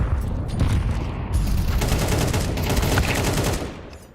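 Rapid gunfire trades back and forth in a Counter-Strike match, dense overlapping bursts of rifle shots sustained for several seconds before easing off near the end.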